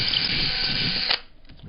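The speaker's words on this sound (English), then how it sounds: "So I'm just going to drill" A power drill whirs loudly at close range for about a second, then cuts off abruptly.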